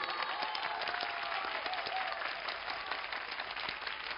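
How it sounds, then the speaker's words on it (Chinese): Audience applause welcomes a contestant to the stage at a performance competition. A dense, even wash of clapping continues throughout at a moderate, somewhat distant level. "掌声有请"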